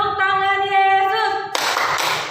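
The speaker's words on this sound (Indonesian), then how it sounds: "Tepuk tangan Yesus." Children in a Sunday school class clap their hands together; a sung or chanted tone runs first, then a dense burst of group clapping takes over for the last second.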